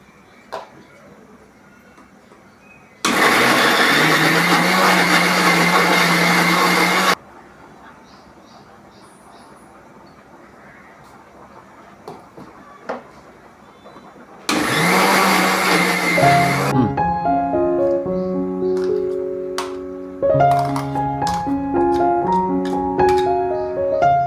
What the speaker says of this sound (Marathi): चला आपला जो सुका मसाला भाजून घेतलेला होता तो आता आपण मिक्सरला लावून त्याची पेस्ट बनवून घेऊया